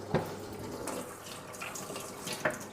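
Pears are rubbed and rinsed by hand in a basin of water, producing soft sloshes and splashes with a few sharper drips and knocks, quiet and close.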